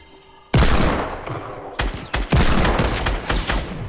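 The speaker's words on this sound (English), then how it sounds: "Oh, got shot by a sniper." Heavy gunfire in the game Fortnite, including a sniper rifle: a loud sharp shot bursts in abruptly, followed by further cracks and rattling reports with short gaps between them.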